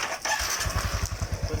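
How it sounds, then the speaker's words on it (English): A motorcycle engine starting up, catching after a brief crank and settling into a rapid, regular low putter, close and fairly loud, with no talk. "we will start the engine on"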